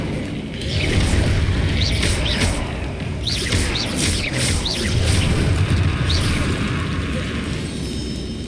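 Incendio fire spells cast in Hogwarts Legacy, repeated whooshing bursts of flame roughly every second, loud and near, layered over a rumbling combat background with no speech.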